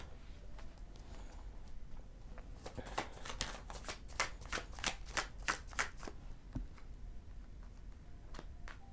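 A tarot card deck is shuffled close by, with a quick run of crisp riffling snaps in the middle and a few soft taps before and after, in a quiet room.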